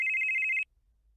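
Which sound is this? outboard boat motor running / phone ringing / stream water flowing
phone ringing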